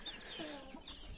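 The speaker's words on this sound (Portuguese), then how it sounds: "E a galinha ali também é pescoço pelado, galera." A naked neck hen clucking close by on a farm in a short, brief burst of calls.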